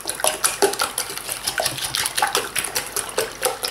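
Eggs are beaten in a bowl for carbonara, producing quick, rhythmic clinks and taps of a utensil against the bowl, close and fairly bright, repeating steadily without any voices.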